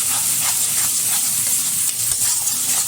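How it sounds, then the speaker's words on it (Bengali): Pomfret curry with mustard and poppy seed paste being stirred in a pan, a steady close sizzle with soft scraping strokes at a regular rhythm, no voices. "এবার একটু নাড়িয়ে নিচ্ছি।"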